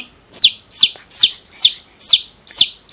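Baby chicks chirping loudly nearby, a rapid string of seven sharp, high, downward-sliding peeps at an even rhythm, each about a third of a second apart, with no voices.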